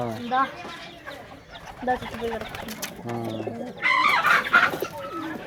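Pigeons cooing in a pigeon-keeping loft with white and Roman breeds and chicks, soft repeated coos mixed with bird calls, a brief louder burst of chirping near the end, with people talking throughout.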